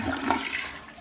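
A household toilet flushes in a brief, loud rush of swirling water, heard up close with no voices.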